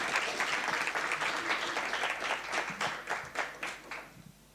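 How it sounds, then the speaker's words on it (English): An audience applauds a panel at a research seminar on the SDGs and Agenda 2063. The clapping is full and steady at first, then thins into scattered claps and fades out near the end. "Let's give our panel a big round of applause."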